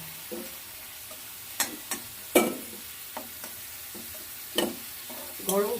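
Potatoes frying in a pan for a light fish curry, with a low sizzle under repeated scraping stirs of a spatula, several distinct clattering strokes spread irregularly across the few seconds, close up and without talking.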